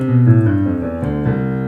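Low bass notes on a piano, a few deep sustained tones struck in sequence, loud and close with no talking.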